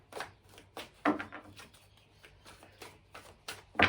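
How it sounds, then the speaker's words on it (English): A deck of tarot cards being shuffled by hand, a series of crisp riffling snaps and soft slaps in an uneven rhythm, close and quiet. "So one more shuffle"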